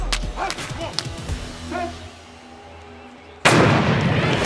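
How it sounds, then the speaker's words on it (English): A starting gun fires to begin a hurdles race at an athletics meet, a sharp burst followed by loud, sustained crowd noise after a stretch of quieter ambience and background voices. "The gun went off and it was almost like me and Simon from Switzerland were like doing synchronized hurdles"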